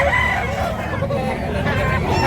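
Roosters crow among the clucking of many fowl at a busy chicken market in Tabunok, Cebu, a loud and dense din with crowd babble and voices mixed in throughout.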